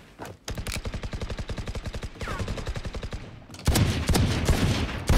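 Rapid Valorant gunfire cracks out in a long run of evenly spaced, loud shots, with a brief pause and then a denser, harsher burst of fire and impacts near the end.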